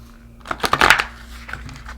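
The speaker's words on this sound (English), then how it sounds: "Give it one more shuffle here." A deck of archetype cards is shuffled in a brief riffle of papery flutters, close and moderately loud, lasting about a second.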